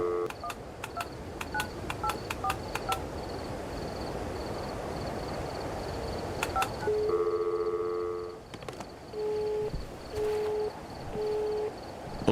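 Phone keypad in the game Dimhaven beeping: a quick run of short dialing tones, a pause, a few more presses, then longer steady tones alternating with gaps, all over a low ambient hum.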